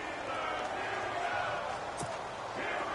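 In a Madden 18 football video game, a stadium crowd keeps up a steady broad roar as a big third down approaches, with a commentator talking over it.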